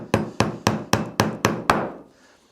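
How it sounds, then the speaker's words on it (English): A Thor nylon hammer taps on brass during leather trunk making, landing seven sharp, evenly spaced strikes close by, each followed by a short ringing decay. "it takes a few more hits with a nylon hammer"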